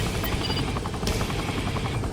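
Helicopter rotor chop inside Saints Row the Third, a dense, steady thudding throb filling the low end for the whole stretch, loud and close with a brief bright burst partway through and no talking.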